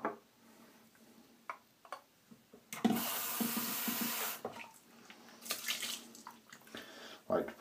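A bathroom tap gushes for about a second and a half while a face is wetted for a wet shave, set among quiet clicks and small handling knocks before and after.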